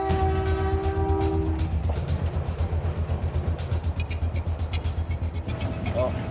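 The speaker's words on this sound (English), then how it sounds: "When I see the train coming" An Ontario Northland passenger train draws near with a deep, rhythmic rumble of wheels and engine, brief horn-like tones early on, growing steadily louder and close by.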